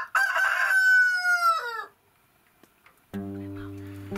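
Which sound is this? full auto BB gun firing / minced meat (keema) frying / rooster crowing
rooster crowing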